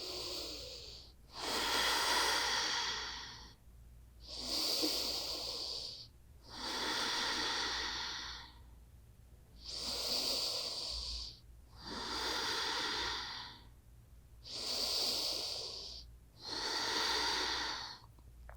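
Slow, deep breaths held through a standing prenatal yoga pose with arms reaching overhead: about eight long, airy, snorting inhale-exhale cycles in a steady rhythm, close and clear with no talking.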